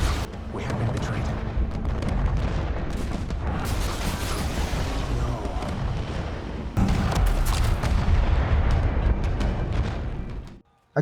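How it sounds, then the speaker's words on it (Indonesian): Cannon artillery fires from hillsides during a film battle, with repeated loud booms and rumbling blasts in a dense, sustained barrage that ends abruptly. "meriam-meriam pun meledak dari arah perbukitan"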